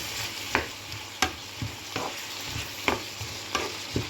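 Onions and tomatoes fry in oil in a pan under a steady low sizzle, broken about every half second by sharp, regular scrapes of a spoon stirring against the pan.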